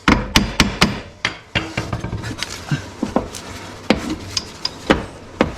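Sharp hammer taps knock a coilover into place on a 1991 Honda Beat: a quick cluster of close, ringing blows, a pause, then scattered single taps over a low workshop hum.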